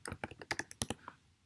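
A computer keyboard clacks out a short burst of about a dozen quick keystrokes, close and crisp, as a command is typed in a quiet room.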